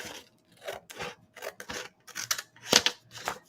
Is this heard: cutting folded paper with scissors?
yes